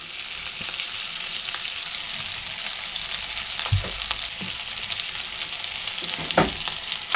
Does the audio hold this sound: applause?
no